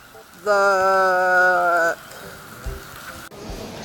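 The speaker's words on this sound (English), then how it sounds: "It is raining so much." A sustained high, voice-like tone rings out briefly, then gives way to a steady wash of heavy rain hissing and pattering close by.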